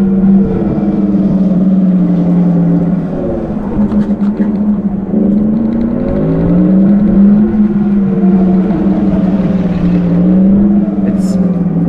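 A Tarform electric motorcycle plays an artificial humming engine tone that rises and falls in pitch with the throttle, loud and continuous throughout a test ride, with a voice heard faintly over it.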